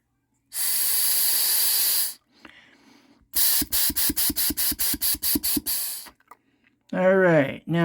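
Air blown hard into the pilot opening of a hot water heater to clean it: a long breathy hiss, then a rapid string of about ten short puffs, with a voice speaking at the end.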